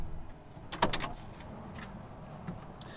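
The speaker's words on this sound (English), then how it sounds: "Let me go shut that back door real quick." The rear sliding door of a van is pulled shut with a single short clunk, followed by quiet outdoor background.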